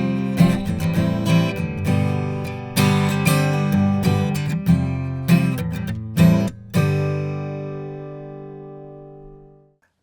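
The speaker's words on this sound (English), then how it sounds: "This guitar is an HPL, which is high pressure laminate, and it sounds like this." A Lava ME 4 acoustic guitar built of high pressure laminate is strummed in bright rhythmic chords, close and full, before a final chord rings out and decays into silence.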